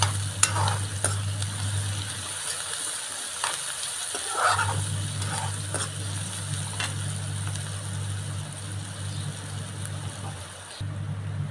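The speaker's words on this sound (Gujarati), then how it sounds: "હવે હલાવી નાખીએ ને એટલે ડુંગળી તેલમાં કકડી જાય." Chopped onion sizzling in hot oil in a pan as it is stirred, with a constant frying hiss and scattered clicks of the spoon scraping the pan. A low steady hum runs underneath and drops out briefly partway through.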